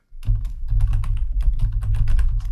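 JavaScript code being typed on a computer keyboard: rapid, uneven clicking keystrokes in a steady close-up run, with no talk.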